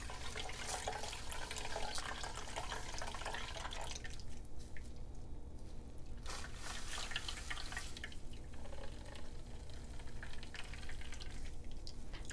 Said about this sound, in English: And you're just going to literally squeeze this bag. And basically milk it all out.